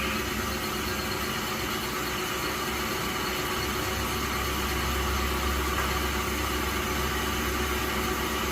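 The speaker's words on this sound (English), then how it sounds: "an air compressor and compressed air blowing on the tool" Compressed air from an air compressor blowing onto a cutting tool while machining holes in a differential crown wheel gear, a steady loud hiss over the low hum of the machine, continuous and close.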